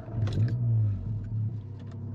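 A Volkswagen Golf 7 GTI Clubsport, tuned to Stage 2 with a full custom 76 mm exhaust, revs in a short burst, its low engine drone rising and holding close by, alone without talk.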